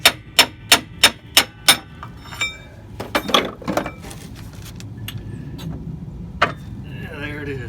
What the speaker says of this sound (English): Alright, so we're driving out these big bolts